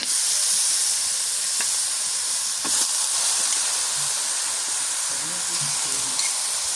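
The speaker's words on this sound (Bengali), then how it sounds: "মশলা কষানো হয়ে গেছে এবার এই যে মাংসগুলো দিয়ে দিই" Meat added to spiced khichuri cooking on a clay stove, a continuous broad hiss and sizzle with a few soft knocks and stirring sounds, no talk.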